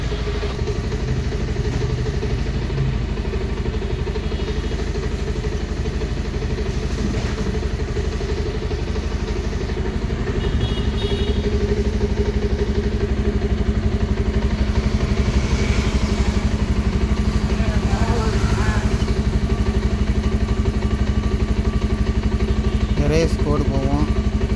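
A motorcycle engine idles steadily with a constant chugging rumble and light mechanical clatter, while people talk nearby.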